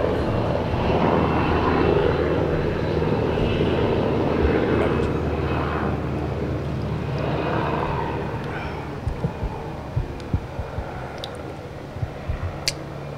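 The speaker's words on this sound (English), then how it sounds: "That's a helicopter. That's not a plane, by the way." A low, rumbling helicopter engine drones steadily overhead, loud at first and gradually fading away, with a few faint clicks near the end.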